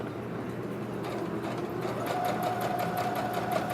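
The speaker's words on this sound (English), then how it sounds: "Plus, I felt guilty not touching this fabulous sewing machine." A sewing machine runs steadily up close, its rapid rhythmic stitching chatter speeding up slightly over a low motor hum.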